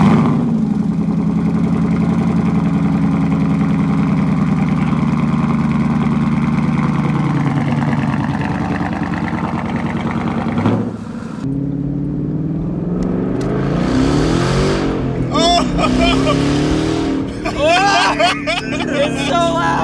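Ford Mustang fitted with Corsa Extreme axle-back exhaust rumbles at idle, then revs with rising, raspy bursts; crowd chatter and voices run underneath throughout, loud and close.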